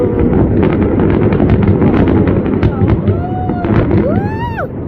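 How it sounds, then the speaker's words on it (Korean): Gold fireworks burst at a New Year celebration, a loud, dense barrage of crackling bangs close at hand, with rising whistles near the end and faint voices underneath. "금색 폭탄이에요. 금색 폭탄."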